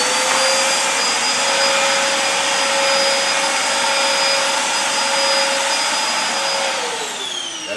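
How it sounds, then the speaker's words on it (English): A backpack vacuum cleaner used for commercial cleaning runs steadily at full power with a loud, constant motor whine and airflow roar, its pitch dipping slightly near the end. "This allows you to have kind of like an extended vacuum for you to be able to get in crevices or whatever"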